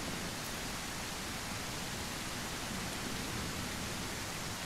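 Rain in the Surroundead survival game, a steady, dense hiss of falling rain that continues unbroken throughout.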